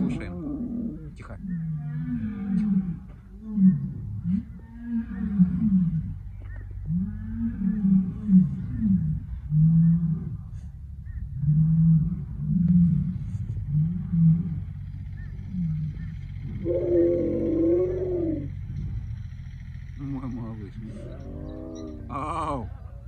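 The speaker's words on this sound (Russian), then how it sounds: "Сейчас была перекличка львов, самцов. Также подпевают им периодически самки." Captive male lions calling back and forth in a roaring chorus, with females occasionally joining; a rhythmic series of deep, grunting roars rising and fading over about twenty seconds, fairly close, with a few higher calls near the end.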